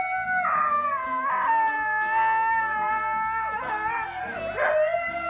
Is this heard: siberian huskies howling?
yes